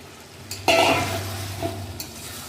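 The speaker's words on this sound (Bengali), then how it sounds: "অনেকক্ষণ ধরে মাংস কষানো হচ্ছে আবার আলুগুলো দিয়ে দেবো" Pork curry with potatoes being stir-fried in a pan, a sudden loud sizzle and scraping stir near the start, then steady frying hiss with occasional spatula clinks, no talk.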